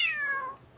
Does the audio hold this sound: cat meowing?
yes